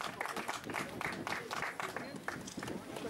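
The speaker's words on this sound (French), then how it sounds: "Simon, on l'applaudit très très fort." Spectators applaud a runner on the podium at the results ceremony of the Mureaux international cross-country race. The clapping comes in scattered bursts under an announcer's voice.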